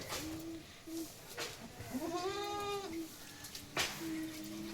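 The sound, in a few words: goats bleating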